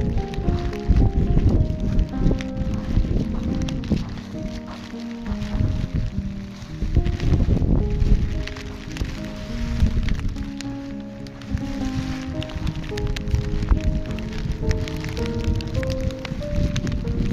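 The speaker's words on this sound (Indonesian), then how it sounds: "Hujan semakin bertambah besar dan angin pun semakin bertiup kencang." Heavy rain pours continuously with gusty wind and rumbling low noise on Mount Rinjani during a storm, loud and enveloping, with a faint tonal hum running underneath.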